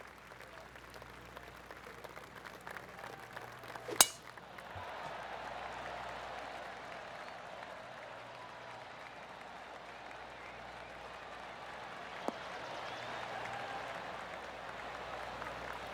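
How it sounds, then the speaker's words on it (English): Polite golf-clap applause rises from a gallery crowd in the video game PGA Tour 2K23. The soft, steady clapping follows a sharp hit and continues at moderate distance. "That deserves a golf clap."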